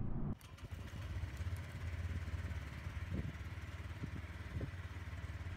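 Honda Click 125 V2 scooter engine idling nearby, a steady low rumble with faint clattering ticks, running alone throughout.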